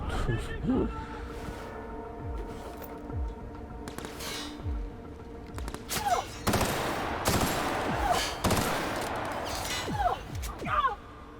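Bursts of gunfire in the video game The Outer Worlds crackle and pop in quick volleys, mixed with other game effects while people talk over the action.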